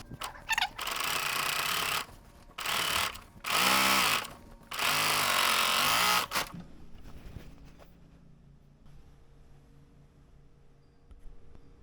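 Serger overlock machine stitches a fabric edge in several short, loud bursts of rapid whirring separated by pauses, then falls quiet to faint handling sounds.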